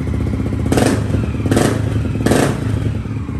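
A fuel-injected motorcycle engine runs steadily up close, loud and continuous, with three short throttle blips swelling over the idle.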